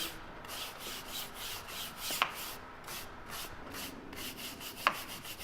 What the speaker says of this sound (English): You're going to use the same nylon brush. Going to rub that through.